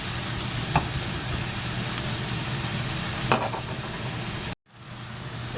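Pork duruchigi sizzling in a pan while being spread with a ladle, a steady close hiss with a couple of light metallic scrapes, then a sudden cut and the sizzle resumes.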